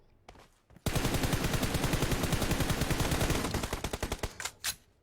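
Rapid automatic gunfire in a shooting video game, a loud sustained burst of evenly spaced shots lasting several seconds, then a few trailing single shots, with no talk over it.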